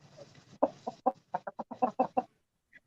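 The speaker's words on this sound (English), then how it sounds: "I have 2 chickens that are problem chickens that keep getting out." Hens cluck in a quick run of short, close calls that rise and then stop, followed by one faint peep, with no talk.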